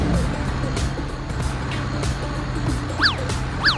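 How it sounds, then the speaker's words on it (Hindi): A three-wheeled tempo goods vehicle drives along with a steady, rumbling engine drone throughout, and two short, bright chirping tones cut through near the end. "मेरा प्यारा बाबू कितना बढ़िया टेम्पो चला रहा है"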